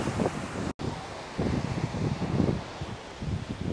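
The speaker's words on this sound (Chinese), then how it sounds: "给大家看一下这个海浪， 超大的今天" Big sea waves surge onto a wild beach along the coastal road between Shanhaiguan and Panjin, heard as rolling low rumbles under heavy gusting wind buffeting the microphone, with one brief dropout.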